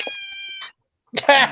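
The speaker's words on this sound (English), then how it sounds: "Oh, I hear a cat." A short, bright cat meow cries out close by, set between bits of a person's speech in a noisy home scene.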